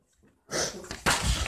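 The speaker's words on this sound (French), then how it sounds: "je risque d'éternuer, renifler tout ça, parce que je suis en pleine allergie là" A single close allergy sneeze, a short sharp breathy burst followed by a second noisy exhale, after a moment of near silence.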